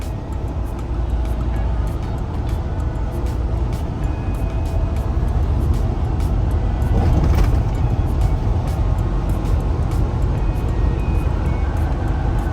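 A truck cruising down a Florida road without downshifting, its low engine drone and road rumble steady and loud throughout, with a brief swell of noise midway and faint ticking over the top.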